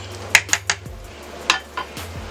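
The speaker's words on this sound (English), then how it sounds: "So I'm going to kind of move these potatoes down a little bit" Spoon scraping and knocking in a pot while potatoes are stirred with sausage, onions and garlic, giving four or five sharp metallic clinks with quieter shuffling between, close and alone.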